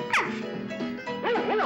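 A cartoonish dog on a children's television show gives a few yapping barks and yips, close and clear over a droning musical background.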